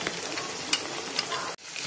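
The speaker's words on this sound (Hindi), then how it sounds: "देखिए हमारा मसाला खूब अच्छी तरह भून रहा है" Masala sizzling and frying steadily in a hot pan while cooking mutton nalli nihari, a continuous close crackle with a couple of sharper pops, cut off abruptly near the end.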